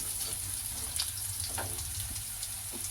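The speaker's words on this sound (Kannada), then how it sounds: "ಇದು ಒಂದು 30 ಸೆಕೆಂಡ್ಸು ಚೆನ್ನಾಗಿ ಫ್ರೈ ಆಗಲಿ." A steady soft sizzle rises from ingredients frying in a pan for bisibelebath, faint and continuous with occasional small crackles and stirring noises.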